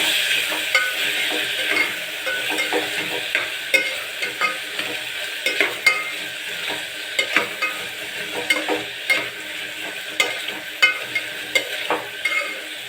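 Tomatoes frying in a pan for upma while being stirred, a soft continuous sizzle punctuated by regular scraping clacks of a spoon against the pan, fairly close and with no talk.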